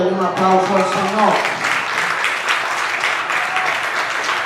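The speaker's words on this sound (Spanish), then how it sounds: "Denle un aplauso al Señor" A church congregation breaks into applause for the Lord right after a voice finishes speaking, the clapping swelling into a dense, fairly loud patter that continues steadily to the end.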